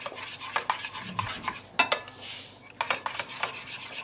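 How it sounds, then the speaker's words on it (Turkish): A spoon or whisk stirring soufflé batter with vanilla and a pinch of salt in a bowl, quick scraping strokes and light clinks against the sides, close and fairly quiet. "Şimdi bunu güzelce karıştıralım."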